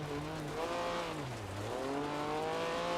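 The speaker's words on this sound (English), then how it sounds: "it's naturally aspirated, so it sounds great. It's got that kind of burbling exhaust noise" A naturally aspirated six-cylinder Group B rally car from a racing video game, its burbling exhaust holding steady, dipping briefly, then rising again with the revs, loud and continuous with no voices.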